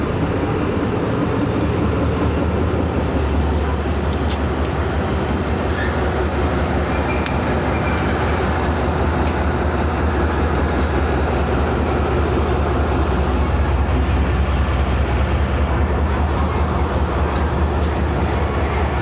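The 8 Down Tezgam express, led by ZCU 30 locomotive 6314, rolls past close by in a loud sustained rumble and clatter of wheels and carriages with a deep engine drone, steady for the whole stretch.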